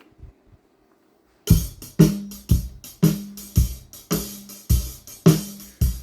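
A drum track plays back through a mixer after a brief quiet lead-in: punchy kick and snare hits with crashing cymbals land in a steady beat, loud and dry.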